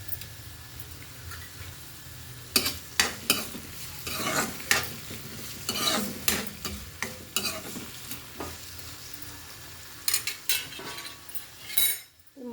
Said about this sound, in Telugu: ఒక పెద్ద టమాటా ముక్కల కింద కోసుకుని వేసుకుంటున్నాను.